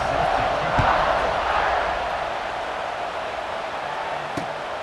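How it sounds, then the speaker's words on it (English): A stadium crowd in EA Sports College Football 26 buzzes after a score, a loud, steady, dense roar that fills the space without breaks and eases slightly toward the end. "this crowd is buzzing after that last score"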